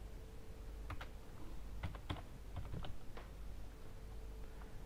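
A name being typed on a computer keyboard, with a short burst of close, crisp key clicks in irregular rhythm over a quiet hum.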